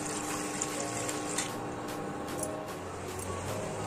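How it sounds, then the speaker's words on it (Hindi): Water poured into a kadhai holding a stand, in a home kitchen while making rice papad, a continuous close splashing gush heard steadily on its own for a few seconds. "पानी डालेंगे,"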